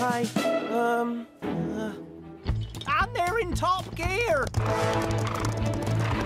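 Cartoon horses gallop in a Bob the Builder setting, their hooves clip-clopping in a quick rhythm amid whinnies and bright music, while a voice speaks over them.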